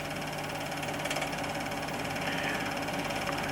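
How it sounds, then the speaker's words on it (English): A vintage model aircraft engine runs with a dense, buzzing drone as its throttle is carefully opened. The note holds steady and loud, then swells slightly as the revs climb. "throttle being very carefully opened and the revs increasing"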